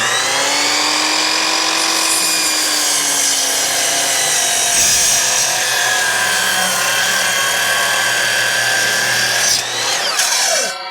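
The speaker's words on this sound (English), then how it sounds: "I'm using the Bosch 12-inch sliding miter compound saw." A Bosch 12-inch sliding compound miter saw cuts through firewood, its loud steady motor whine with a harsh rasping bite lasting about ten seconds before the blade spins down at the end.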